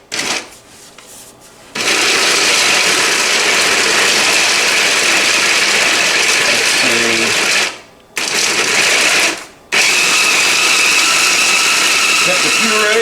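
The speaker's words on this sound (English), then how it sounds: "we're gonna blend that up" A kitchen blender purees roasted garlic for coconut choka. It whirs with a loud, continuous grinding roar after a quiet start, cutting out briefly twice before starting again.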